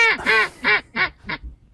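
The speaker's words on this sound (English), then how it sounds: "who let these ducks in the temple anyway?" Ducks quacking inside a temple, five loud nasal quacks in a quick run that fade toward the end, close by with no talk over them.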